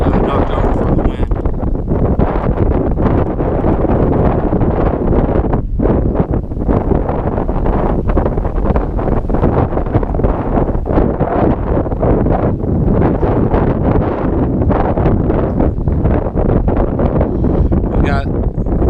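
Strong wind outdoors buffets a GoPro microphone, a loud, continuous rumbling roar with constant gusty crackle that fills the whole stretch at close range.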